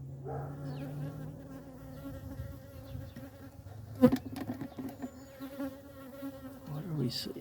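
Honey bees from a hive with a laying worker problem buzz steadily and close by, a dense drone with a brief knock of hive handling near the middle.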